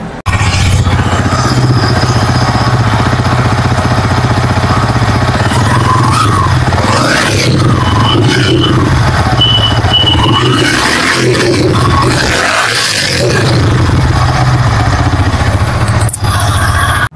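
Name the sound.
Yamaha R15 V4 motorcycle engine running and revving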